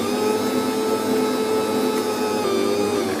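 Stand mixer kneading sweet whipped-cream bread dough at raised speed, a loud, steady motor whir that holds an even level throughout with no talking.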